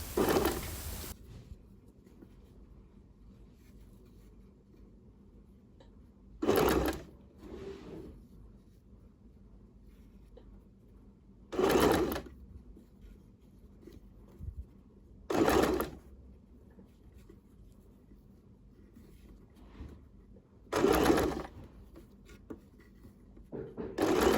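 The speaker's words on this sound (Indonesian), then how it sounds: "Nah, pada bagian sini yang melengkung, pelan-pelan kita jahitnya." A sewing machine stitches the curved seam of men's trousers with the fabric fed slowly, giving four or five short, loud bursts of whirring separated by quiet pauses.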